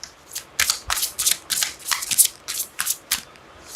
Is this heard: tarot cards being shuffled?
yes